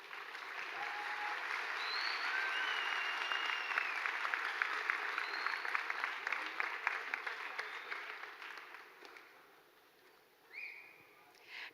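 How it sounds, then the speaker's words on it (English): Audience applause for Liv and Lauren at a high school coronation event, a sustained burst of clapping that swells, holds for several seconds, then tapers off to near silence before a few scattered claps. "Let's give them a round of applause."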